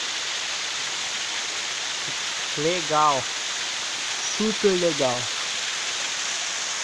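A waterfall with a drop of about 50 metres roars as steady, loud broadband rushing water throughout, while someone briefly speaks over it.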